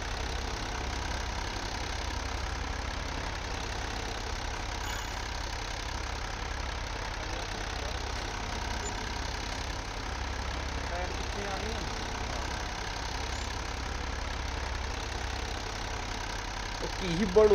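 In Farming Simulator 22, a tractor engine idles with a steady, low mechanical drone that holds unchanged at moderate level, with a brief bump near the end.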